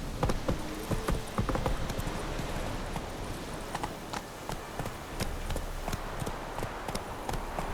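Roach the horse galloping in The Witcher 3: brisk, continuous clip-clop of hooves at a steady running rhythm, close and fairly loud, with light game ambience and no voices.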